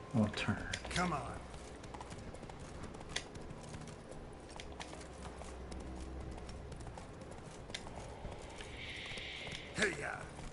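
Horse hooves clip-clop steadily on the ground in the video game The Witcher 3, a continuous mid-level trotting rhythm with a voice talking over it and a brief louder burst near the end.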